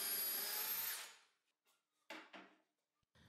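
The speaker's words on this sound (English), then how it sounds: "I drill the holes and screw the brackets on like before." A power drill bores holes for workbench brackets on a DIY folding outfeed table, a close whirring burst for about a second, followed by a few short quiet knocks and clatters.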